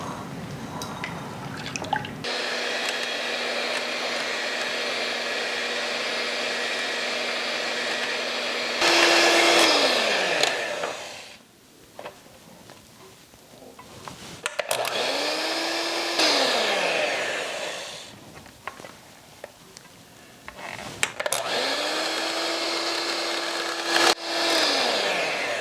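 An electric mixer whips cream in a bowl in loud, sustained whirring bursts that stop and start several times, with pitch sweeps as the speed changes and brief clinks in between.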